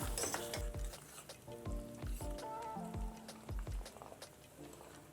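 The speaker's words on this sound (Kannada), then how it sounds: "ಲೋ ಫ್ಲೇಮಲ್ಲೇ ಎಣ್ಣೆ ಬಿಡುವರೆಗೂ ಮಸಾಲೆ ಚೆನ್ನಾಗಿ ಫ್ರೈ ಮಾಡ್ಕೊಳ್ಳೋಣ" Masala with coriander powder frying in oil over a low flame, with soft sizzling under repeated clinks and scrapes of a spoon stirring the pan, close and moderately quiet.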